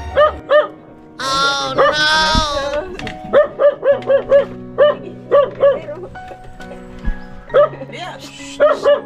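A dog barks repeatedly at close range, with a steady run of sharp barks and a few yips. People talk over it, and a higher whining sound rises early on.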